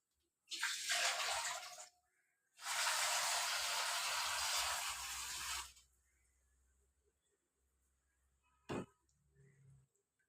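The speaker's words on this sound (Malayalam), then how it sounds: "വെള്ളം കളയട്ടെ" Water pours in two strong bursts as it is drained off washed fish for a curry in a home kitchen, followed by quieter dripping and a brief clatter near the end.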